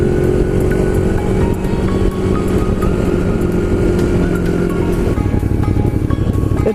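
A Ducati Monster 821 motorcycle ridden in full power mode on a test ride gives a loud, steady engine drone with a rough, throbbing low rumble that holds for the whole stretch, with no talk.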